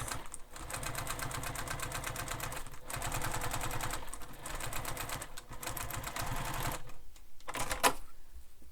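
A sewing machine runs in long, steady bursts of rapid stitching while basting Velcro along the long edges of a bag, pausing briefly between passes, then stopping near the end with a small click.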